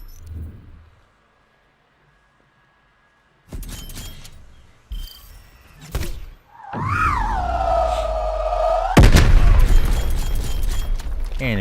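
A spawn tube being shot in the video game Black Ops Cold War: quiet at first, then sharp bursts, a rising tonal whoosh and a loud booming impact that trails into rumbling noise.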